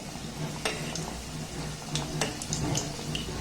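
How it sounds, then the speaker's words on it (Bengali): Small flower-shaped pitha pieces of dough fry in hot oil in a pan with a soft, steady sizzle and low bubbling, while light clicks and taps of utensils sound faintly over the quiet frying. "এবার যে ফুলগুলো বানিয়েছি তেলের মধ্যে দিয়ে দেব আমি একেবারে অনেক বেশি দেবো না কম কম দিয়ে ভেজে নেব"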